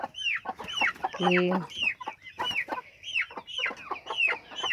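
Chickens cluck steadily inside a henhouse, close and moderately loud, with repeated short calls overlapping in a busy, uneven rhythm. One bird lets out a brief squawk. A voice is heard briefly.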